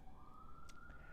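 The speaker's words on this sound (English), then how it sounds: "Sometimes you get a siren going by." A city emergency vehicle siren passing by in New York City, a steady rising wail heard faintly in the distance under background hum, with no other sounds standing out.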